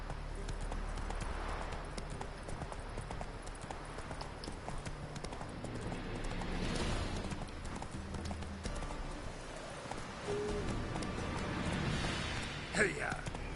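In The Witcher 3 video game, a horse gallops along with a steady, rhythmic clip-clop of hooves throughout, while a voice talks over it.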